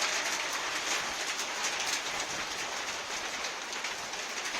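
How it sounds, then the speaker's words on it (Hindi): Rain falls steadily in the dark, a dense, even hiss that holds at the same level throughout with no voices. "अंधेरा इतना है, बारिश भी नहीं दिख रही, लेकिन आवाज़ सुनाई दे रही है।"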